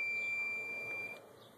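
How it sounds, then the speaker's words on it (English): A solar inverter alarm sounds a steady, high, piercing electronic beep on power loss, holding for about a second before cutting off, with faint room noise behind it. "I get the alarm from my inverter saying"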